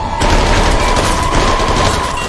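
Gunfire from the Squid Game film as staff shoot players who fail a game: a dense, continuous volley of shots fills the whole stretch, loud and unbroken, with no talking.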